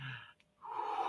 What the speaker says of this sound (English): So let's just take a deep breath.